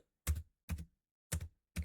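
Keystrokes on a computer keyboard while entering a formula into an Excel worksheet: four separate soft clacks at a steady, unhurried pace, close and quiet, with silence between them and no voices.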